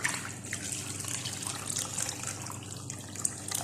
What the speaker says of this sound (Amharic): ዶሮውን ጨምሬ ውሃ ጨምራለሁ።